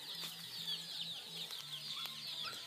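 Chicks and chickens clucking on a farm near banana trees around midday, with soft repeated low clucks and high chirping cheeps continuing steadily at close range.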